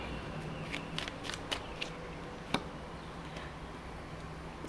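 Tarot cards are shuffled quietly, giving a run of soft riffling flicks and taps with one sharper snap near the middle, close and faint with no talking.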